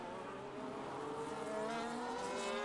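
Alpine Formula 1 race car engine in an F1 racing game at the Bahrain Grand Prix, a steady high-pitched whine with layered harmonics climbing gradually as it accelerates, loud and continuous with no talk.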